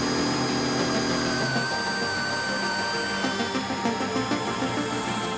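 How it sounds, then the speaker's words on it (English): Power tool cuts a hole into the metal body of a brand new Toyota Landcruiser Sahara 300 Series, a steady high-pitched whine with a shifting tone and grinding texture, close and continuous with no talk. "Here comes the scary bit, cutting into the brand new 300 series."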